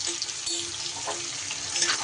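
Chunks of potato frying in hot oil with turmeric and salt, giving a steady, fairly loud broadband hiss and crackle that runs without a break.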